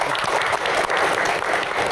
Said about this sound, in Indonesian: tepuk tangan untuk Coach Indra